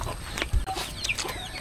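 A chicken clucks a few short times nearby, with soft background rustling and a brief low thump.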